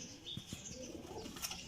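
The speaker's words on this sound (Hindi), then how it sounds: "लो जनाब पहले नंबर पर कबूतर बैठा।" A golden champion pigeon lands on its perch with a few quick, soft wing flaps, faint and close, alongside light chirps from nearby birds.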